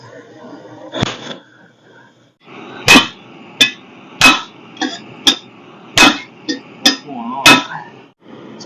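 A hammer strikes rusted brake hub studs on an abandoned 1946 International truck, one blow, then a run of about ten sharp metallic impacts at an uneven pace, loud and close.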